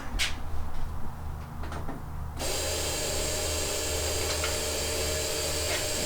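Engine of a 1986 Toyota 4Runner cranked with a screwdriver on the starter, a few faint knocks followed by a sudden steady broadband running roar with a low rumble that holds to the end, close, no talk.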